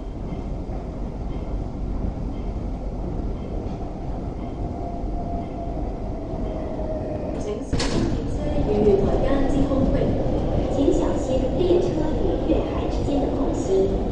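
An MTR West Rail Line train at Tin Shui Wai station, a steady rumbling hum under station ambience, with a sharp clunk partway through and then louder, busier running noise as the train moves.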